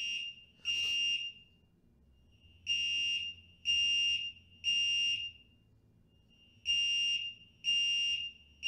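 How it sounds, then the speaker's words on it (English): A fire alarm, pulled from outside, blares in repeated loud electronic bursts of roughly a second each, with short gaps between them, sounding alone at close range. "an update on the fire alarm, that someone pulled the alarm outside"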